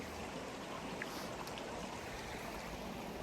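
A British Columbia mountain creek flows with a steady, soft rushing wash, faint and continuous, with no voices.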